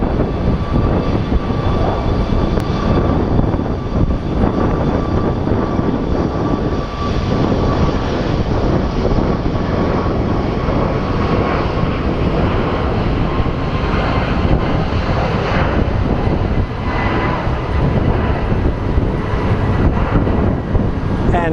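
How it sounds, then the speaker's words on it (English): A Southwest airliner departs Sky Harbor airport, a loud, steady jet-engine roar that holds for over twenty seconds with a broad rumble and a constant whine, heard from outdoors without any talking. "The Southwest departing for New Orleans."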